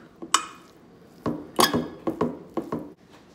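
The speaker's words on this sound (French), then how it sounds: "avec ma fourchette, je vais écraser un petit peu" A fork scrapes and clinks against a dish while mashing and mixing potatoes, with a handful of sharp, close taps and squishes in an uneven rhythm and nothing else around them.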